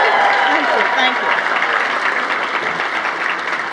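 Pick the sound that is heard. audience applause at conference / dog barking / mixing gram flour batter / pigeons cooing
audience applause at conference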